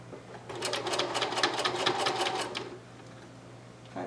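A sewing machine stitches the seam of a doll-sized slouch boot for an American Girl doll in a fast, rattling burst lasting about two seconds. The run then stops, leaving a low steady hum.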